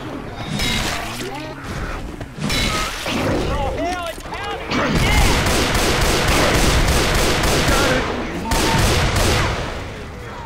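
Gunfire in the zombie shooter game Left 4 Dead 2 during the Dead Center campaign, loud bursts and rapid volleys mixed with shouting voices and game effects, nearly continuous throughout.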